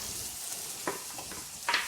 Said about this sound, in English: While it's sizzling for that 30 seconds